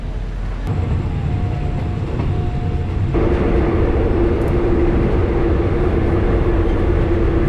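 Train running during a land border crossing, a loud close rumble of wheels and carriage noise with a steady hum and faint tones, continuous throughout.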